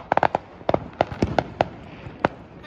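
Fourth of July fireworks and firecrackers crack and pop around 4th Street in Chesterton, Indiana, as sharp irregular bangs, some in quick clusters, ringing out loud against a quiet background.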